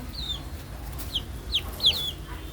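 Several short high-pitched chicken calls, a few separate clucks over a low steady background hum, fairly close.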